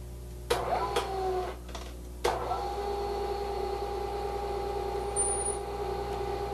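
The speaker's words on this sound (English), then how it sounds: "We're now ready to ream our hole." A machine reams a drilled hole in back gear, giving a steady mechanical hum and whine broken by a couple of sharp clunks early on, then settling into an even drone.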